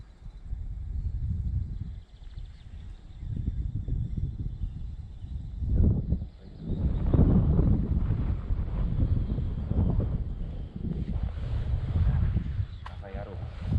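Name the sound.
wind blowing outdoors while fishing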